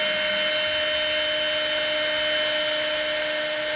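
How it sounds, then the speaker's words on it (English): A power drill runs steadily with a high whine, boring a hole for a wideband oxygen sensor while the bits struggle to cut, one continuous close sound throughout. "start drilling"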